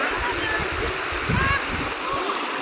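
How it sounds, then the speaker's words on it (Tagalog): Bunsuran Falls, a waterfall running low in the dry season, gives a steady nearby rush and splash of water that fills the whole clip. "Ito po yung tinatawag nilang Bunsuran Falls."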